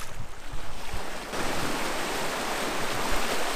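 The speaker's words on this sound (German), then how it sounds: "Und die Wellen sind natürlich auch ein bisschen klein heute." Small ocean waves wash onto a beach in southern Italy, a steady close hiss of surf with a few low thumps and wind buffeting the microphone.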